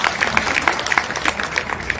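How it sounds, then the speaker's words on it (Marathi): An audience at a women's day event applauds, a dense, steady patter of many hands clapping at once, fairly loud and continuous with no voices over it. "टाळ्या."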